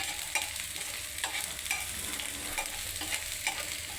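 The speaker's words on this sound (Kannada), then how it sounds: "ಆಯಿಲ್ ಬಿಸಿ ಆದಮೇಲೆ ಈರುಳ್ಳಿ ಹಾಕೊಳ್ಳಿ." Onions fry in hot oil for a chicken roll, making a quiet, steady sizzle with occasional soft stirring scrapes close by.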